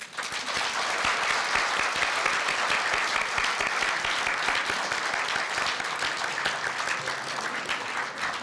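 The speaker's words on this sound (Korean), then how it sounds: "큰 박수와 함께 70주년을 축하하겠습니다" Sustained applause from a ceremony audience during the cake cutting at a university newspaper's 70th anniversary celebration at Korea University, dense and steady clapping throughout with no speech over it.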